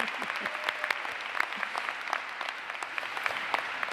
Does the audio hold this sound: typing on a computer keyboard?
no